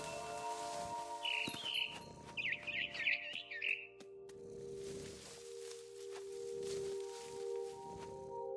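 A frightened bird in a video game chirps in quick, agitated bursts, then goes quiet under a steady droning hum of background music.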